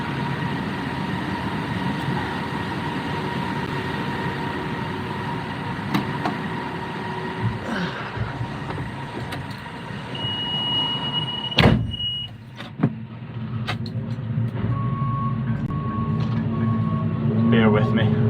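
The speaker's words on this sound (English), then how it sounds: "I need to move a forklift." A forklift is moved on a farm during the oilseed harvest, giving a steady mechanical engine drone. Occasional clanks and a couple of sharp knocks break through near the middle.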